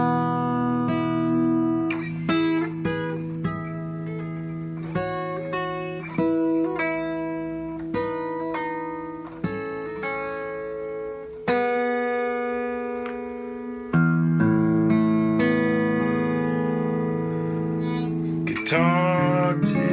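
Acoustic guitar strung with a light-gauge Martin Retro set, 12 on the top string, played alone as ringing chords and single notes with steady plucked attacks and sustained resonance.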